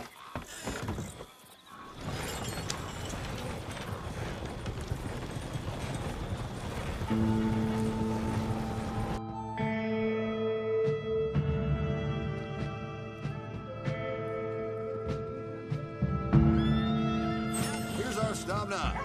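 Steady clip-clop of horse hooves pulling a paid coach ride to Valentine in Red Dead Redemption 2, rolling on under background game music with occasional voices.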